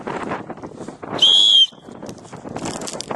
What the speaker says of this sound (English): It blows a little easier than the red one, but they're both decent whistles.